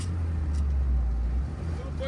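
Loud, rough engine idling close by on an old 1989 Soviet UAZ-469 military off-road vehicle, 2.45 engine, 90 horsepower, a deep steady rumble throughout.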